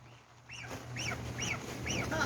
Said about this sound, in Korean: 오리야.